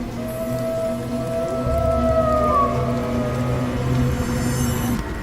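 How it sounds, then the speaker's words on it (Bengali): A cartoon jackal howls in the distance on a rainy night, with long wavering tones rising and falling over steady rainfall and a low rumbling background. "দূরে শোনা গেল শিয়ালের ডাক।"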